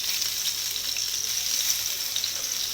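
Fish fillets sizzle steadily in butter in a pan, a dense continuous frying hiss at close range with no voices, the fillets turned partway through cooking.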